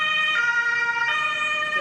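An ambulance siren wailing with steady two-tone pitch, loud and close, with no talk over it.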